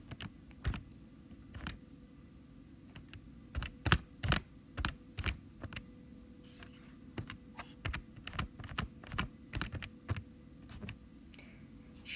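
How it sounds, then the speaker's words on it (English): Calculator buttons pressed in a quick irregular series of sharp plastic clicks, close and fairly crisp over a low steady hum, with short pauses between bursts of key presses. "Type the solution into your calculator."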